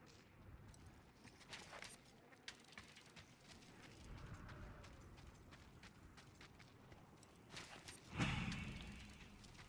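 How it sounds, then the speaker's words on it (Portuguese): Clanking and ratcheting mechanical noises sound in Mad Max as a character repairs a car in the desert, with irregular metallic clicks and knocks, a low rumble, and a heavier clunk near the end. "Ele já pula pra dar uma consertadinha no carro."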